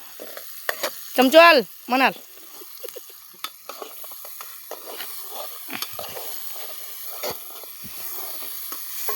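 Onions fry and are stirred in a pan during outdoor pasta cooking at a farm, a steady close sizzle with scraping stirs. Loud voices talk briefly over it early on.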